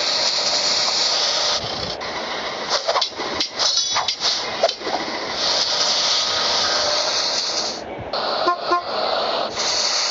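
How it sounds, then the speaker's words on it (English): A cement mixer pump running in a house-building video game: a loud, steady mechanical hiss with scattered clanks and knocks, briefly dipping before resuming. "Cement mixer, press the pump."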